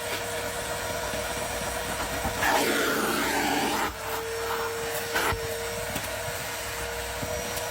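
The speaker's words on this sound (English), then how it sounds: "It's a dry, wet and dry vacuum, so you can just vacuum away." A wet and dry vacuum cleaner works over a car mat, its steady whining drone running throughout while the nozzle's scraping and rubbing comes and goes in short surges; no voices.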